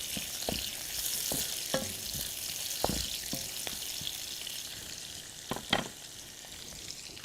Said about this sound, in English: While I'm cooking the onions